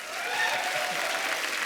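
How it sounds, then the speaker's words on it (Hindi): Studio audience on a Hindi comedy talk show bursts into sustained, dense applause, loud and steady from start to finish with a faint crowd murmur beneath. "इनके लिए जोरदार ताली हो जाए"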